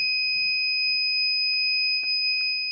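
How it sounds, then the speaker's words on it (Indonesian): An electronic buzzer in a homemade mains-power detector circuit gives a loud, continuous high-pitched tone with a few faint clicks beneath it. "ini berbunyi untuk buzzernya, tandanya rangkaian ini berfungsi dengan normal ya"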